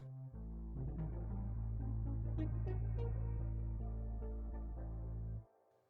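A sustained tone on a WERSI Stage Performer MK1 synthesizer with filter tracking off, so the filter stays fixed; several notes shift above a steady low drone before cutting off abruptly.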